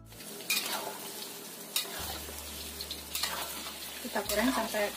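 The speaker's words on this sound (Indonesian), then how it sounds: "Ini kita goreng dulu tempenya." Tempeh fries in hot oil in a home kitchen, giving a steady crackling sizzle. A utensil scrapes and stirs in the pan every so often, and no one speaks.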